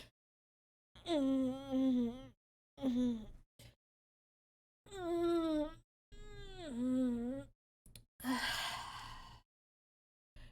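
A pet cat meows repeatedly in long, wailing, drawn-out cries, close and fairly loud, with short silent gaps between calls and a breathy final burst.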